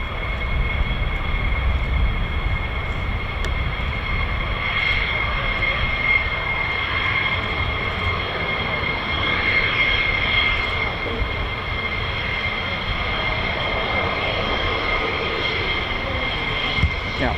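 F-15, F-35 and F-16 fighter jets departing an air base make a steady, loud engine roar with a high whine, sustained throughout at some distance, with faint talk in the background.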